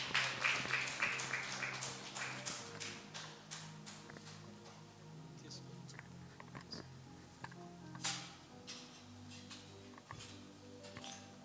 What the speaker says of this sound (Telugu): చప్పట్లు కొడుతూ అభినందిద్దాం.